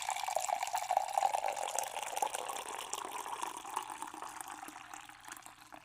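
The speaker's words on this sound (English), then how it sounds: "let me pour myself some coffee" Coffee that has been sitting a while is poured from a pot into a big cup, a soft, steady liquid rush that fills the moment and trails off gently at the end, with no speech.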